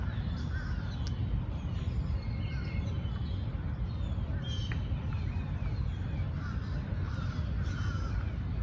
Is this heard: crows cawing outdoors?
yes